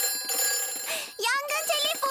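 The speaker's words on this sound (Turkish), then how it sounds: "Yangın telefonu çalıyor." A fire station telephone rings in a Peppa Pig cartoon, a bright repeating electronic ring heard close and under overlapping children's cartoon voices.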